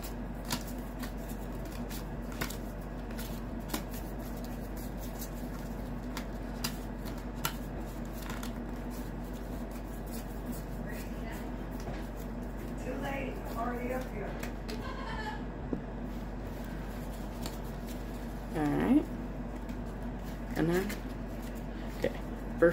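Pokemon trading cards shuffled by hand in a long, quiet run of soft riffling and flicking, with occasional sharper clicks and brief voices speaking near the end.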